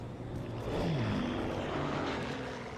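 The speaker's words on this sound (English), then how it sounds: "And those airplanes flying overhead were always there from the very" Propeller airplanes from the game Call of Duty 2 drone overhead, a steady engine hum that swells slightly and holds with no talk over it.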